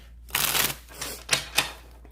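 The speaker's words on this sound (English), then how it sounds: "Shuffle twice and keep it going." Several quick riffling bursts of tarot cards being shuffled, one longer then three short snaps, close and fairly crisp in a quiet room.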